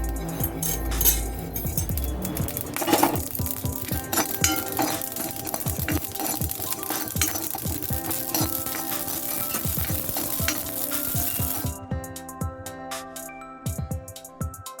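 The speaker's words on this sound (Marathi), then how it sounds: "आता खसखस टाकते" Poppy seeds roasting in a pan for a Malvani Kokan festival offering, a steady close sizzle with frequent clinks and scrapes of a spoon against the metal pan, easing into quieter crackle near the end.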